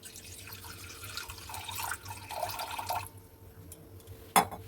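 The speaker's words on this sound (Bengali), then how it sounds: "জল দিচ্ছি" Water trickles and splashes into a wok over a lit gas burner, with a faint low hum underneath and one sharp knock near the end.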